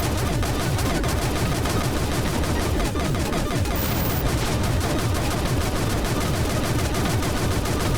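Continuous rapid weapon fire from the Blaste video game, a dense unbroken barrage of shots running steadily at even loudness throughout with no pauses.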